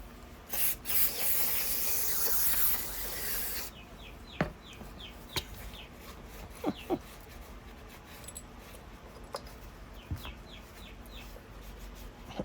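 Brake cleaner sprayed in a steady hiss onto a Stihl chainsaw, a loud burst lasting about three seconds, followed by quieter clicks and small handling sounds.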